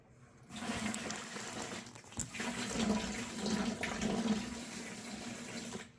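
Water from an aquarium container pours out in a sustained gush, rising and falling in strength for several seconds, fairly faint and with no talk.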